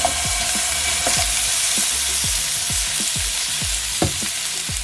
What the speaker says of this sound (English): That's the sound of it searing.